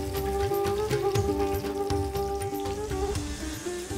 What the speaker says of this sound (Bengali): মাছ প্রায় ভাজা হয়ে এসেছে দর্শকরা